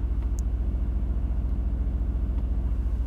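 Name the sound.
Mercedes-AMG GT R Roadster exhaust in quiet mode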